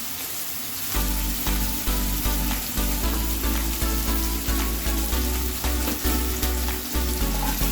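Chopped onions sizzle loudly in hot oil in a pan for Bengali potol dorma, a dense crackling fry with rhythmic stirring knocks after a quieter first second.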